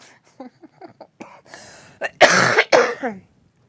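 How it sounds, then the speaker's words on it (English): A few soft throaty sounds give way to a burst of harsh, loud coughs up close, then a raspy trailing breath. "Please excuse the coughing."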